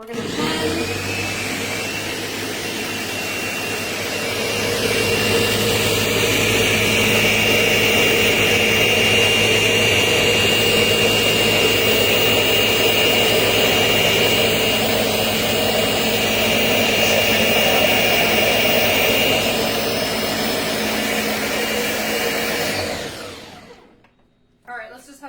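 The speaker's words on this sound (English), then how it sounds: "So power on. We're going to blend." A Vitamix blender running steadily for about twenty-three seconds while blending chocolate protein pudding, a loud continuous whirring motor roar with a high whine, ending abruptly as it powers off.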